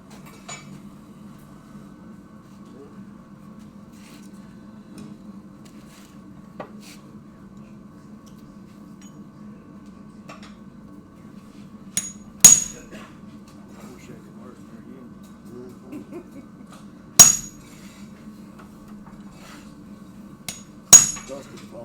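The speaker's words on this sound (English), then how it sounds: "I'm going to hammer the other one down on it" Hot steel is hammered on an anvil to forge blacksmith tong jaws at a forge guild demonstration: three loud, sharp ringing blows stand out at wide intervals over a steady low hum, with faint background activity between strikes.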